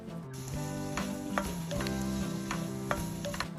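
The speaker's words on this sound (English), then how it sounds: "when a little bit of dried fenugreek leaves are fried with the gram flour" Dried fenugreek leaves frying with gram flour in a pan, a steady close sizzle with occasional sharp clicks and scrapes of stirring, moderately loud and continuous, with no voices.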